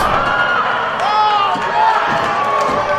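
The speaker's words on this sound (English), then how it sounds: "The crowd's going crazy here." A wrestling crowd cheers and shouts loudly throughout a tag-team match, with whistles and excited voices mixed in under steady arena noise.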